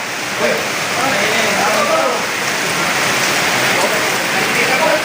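Heavy rain pours down in a dense, steady hiss of drops on surfaces at a solar panel installation, with faint voices talking beneath the downpour.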